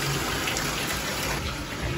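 Water running from a tap into a bathtub being filled for a bubble bath, a steady, dense gushing rush that stays even and close throughout, with no voices.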